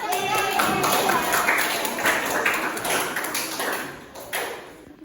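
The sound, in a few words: audience clapping for group 2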